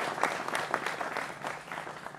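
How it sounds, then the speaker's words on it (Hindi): Studio audience clapping for guests on a Hindi political news debate show, a short, fairly faint burst of scattered applause with a few sharper individual claps standing out. "जोरदार तालियों के साथ अभिनंदन करिए तमाम मेहमानों का"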